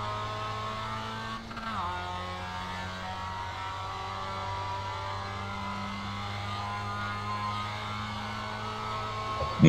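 A Mazda MX-5 race car in the iRacing simulator drones steadily at sustained engine revs, with a brief dip and gear change early on, then a constant buzzing engine tone to the end.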